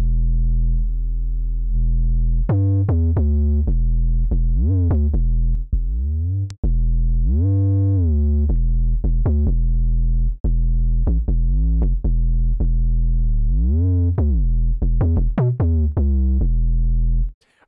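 An overdriven trap 808 bass programmed in FL Studio plays a melodic line of gliding, pitch-sliding notes with buzzy harmonics, loud and continuous with short gaps, no voices.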